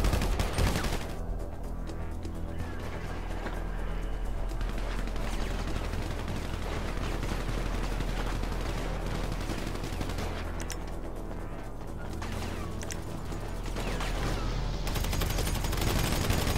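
Shotgun fire in the video game GTA 5 during a team deathmatch: dense, continuous gunshots and booming blasts that keep going without a break.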